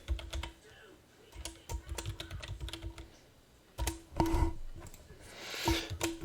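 Someone taps out irregular clusters of keystrokes on a computer keyboard, close and crisp, with short gaps between bursts.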